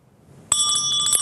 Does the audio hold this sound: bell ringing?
yes